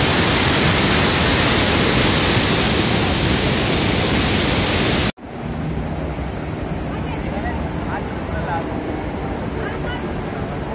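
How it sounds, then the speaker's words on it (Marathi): A fast-flowing mountain river on the Kedarnath trek between Gaurikund and Kedarnath, a loud continuous roaring rush of water that briefly cuts out, then continues somewhat quieter and more distant. "किती फास्ट नदी वाहते"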